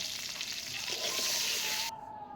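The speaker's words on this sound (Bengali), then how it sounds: "সামান্য লবণ আর হলুদ গুঁড়ো দিয়ে ফুলকপিটাকে ভেজে নেব" Cauliflower frying in hot oil with a little salt and turmeric, a loud steady sizzle that sharpens partway through, then cuts off abruptly, leaving a quieter hiss.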